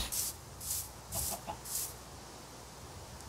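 Minecraft chickens cluck in four evenly spaced bursts, fairly close, then quiet background hiss, with no talking.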